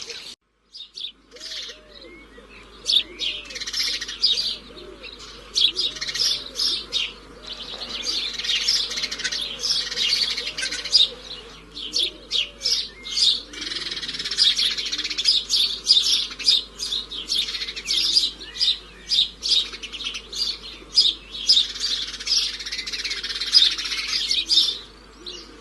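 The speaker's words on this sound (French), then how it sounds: "nous allons pouvoir partir à la recherche de quelques oiseaux de la région" Birds singing in the Loire-Atlantique countryside: a continuous, lively chorus of high chirps and warbles from several birds, fairly close and steady throughout, with a low hum underneath and no talking.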